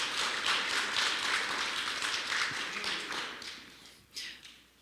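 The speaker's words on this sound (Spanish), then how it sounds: "ese aplauso para el Señor" Church congregation applauding together, a steady dense wash of clapping that holds for several seconds, then thins and tails off.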